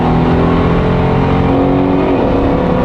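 A Mercedes SL63 AMG with Weistec downpipes, Pure 900 turbos and a water-meth kit accelerates hard, its loud engine drone rising steadily in pitch from inside the cabin with no talk over it.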